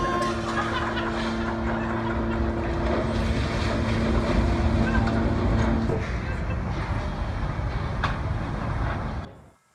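A cruise ship and a smaller boat beside a pier in Venice make a steady, loud engine and water rumble with wind noise, sustained for most of the stretch before it cuts off abruptly.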